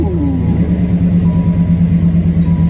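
A car engine with dual exhaust rumbles deeply and steadily at close range, a throaty low drone holding at an even pitch.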